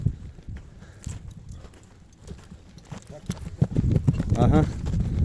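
Hooves of a horse clip-clop on the ground as it is ridden back and forth, a steady near rhythm growing louder toward the end, with people talking over it.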